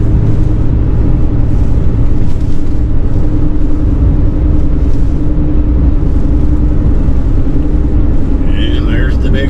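A big vehicle engine drones loudly and steadily as it climbs a large hill, with a constant low rumble that stays close throughout.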